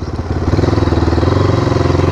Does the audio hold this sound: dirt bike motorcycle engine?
yes